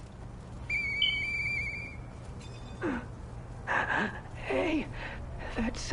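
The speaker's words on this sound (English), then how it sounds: "Hey, that sound. Is that you, Murphy? I know that whistle." Murphy's whistle in the game Lies of P, a short high whistled phrase with a few sustained notes, followed by breathy gasps and quiet vocal sounds over low background hum.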